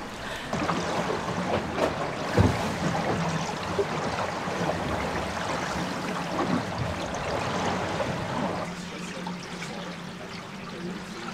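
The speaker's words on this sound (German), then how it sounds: "Aber es ist eher so ein angenehmes Wasserfall-Plätschern." Water splashing and gurgling steadily against the hull of a Sirius 40DS sailboat under way at about 7.5 knots in winter on the Baltic, a continuous close, moderate rushing with a low engine-like hum beneath.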